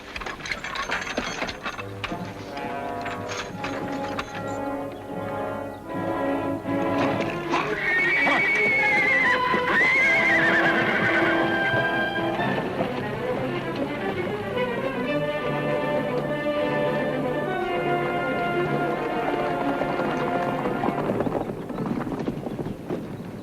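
Horses neigh loudly in a long whinny while hooves clip-clop and harness rattles in a Western television scene, close and continuous, with no talking.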